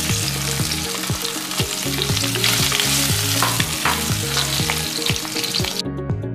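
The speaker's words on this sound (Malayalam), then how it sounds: "പൊട്ടറ്റോസ് വറുത്തെടുക്കാണ്." Cubed boiled potatoes fry in hot oil in a home kitchen, a loud continuous sizzle with repeated scraping stirs of a spatula against the pan, steady throughout with no talk.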